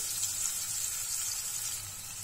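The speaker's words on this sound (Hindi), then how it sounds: "और गार्लिक और ओनियन को हम हल्का सा सुनहरा होने तक भून लेते हैं" Garlic and onion fry in a pan over a medium flame, giving a continuous, even, hissing sizzle at close range from start to finish with no voices.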